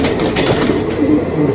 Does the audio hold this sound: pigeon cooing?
yes